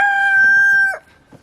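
A backyard rooster crows once, loud and close, a sustained strained call that cuts off sharply near the end, leaving faint farmyard noise after.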